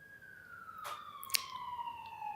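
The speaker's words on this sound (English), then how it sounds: "sirens outside" Emergency vehicle sirens wail outside, faint and distant, with a steady tone that slowly falls in pitch over a quiet background.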